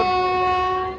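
The Bhopal Jodhpur Express, an Indian passenger train, sounds a loud, sustained horn blast close by, holding one steady pitch before fading slightly at the end.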